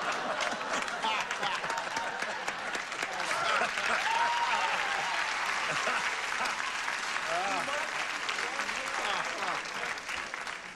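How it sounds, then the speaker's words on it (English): Studio audience applause greeting contestants on a 1980 TV game show, a sustained crowd wash of clapping with cheers and voices running through it. "Applause, applause, applause"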